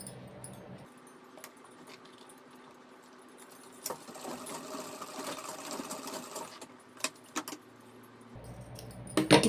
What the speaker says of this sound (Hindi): बराबर पे लाने के बाद यहाँ पे एक सिलाई लगा देंगे।